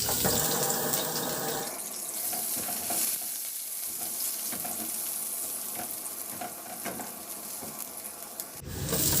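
Garlic sautés in a pan as a loud, hissing sizzle, with scattered scrapes and taps from stirring and a sharp burst of frying near the end.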